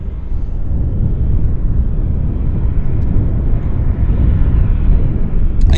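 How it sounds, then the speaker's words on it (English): A Q400 airliner at Vancouver Airport, a loud, steady broadband engine roar with no breaks, filling the scene throughout. "There's our Q400."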